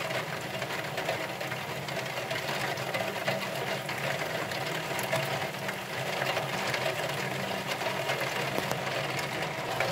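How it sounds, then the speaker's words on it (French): Heavy rain starting during a moderate thunderstorm in Le Mans, France, a steady, dense hiss of rainfall with no pauses, fairly faint and close, and no speech. "Ça commence à bien pleuvoir là."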